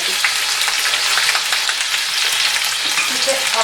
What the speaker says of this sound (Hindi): देखिए, इसमें हमने सारे मसाले डाल के भून लिए